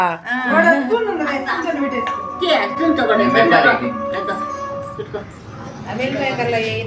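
A dog whimpers and yips in short, whiny bursts close by, mixed in with people talking over it throughout.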